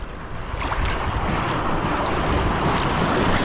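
A strong sea wave breaks near the shore as a loud, rising rush of surf, with heavy wind buffeting the microphone throughout.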